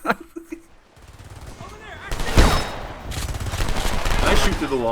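Bursts of automatic gunfire from the video game Homefront build from a quiet start into dense, sustained volleys over the last three seconds, with some talk mixed in.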